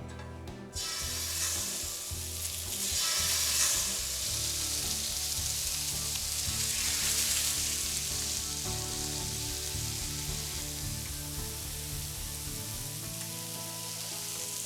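Salmon searing in a thinly oiled pan, a steady crackling sizzle that starts abruptly and holds evenly, with low hum and rumble underneath.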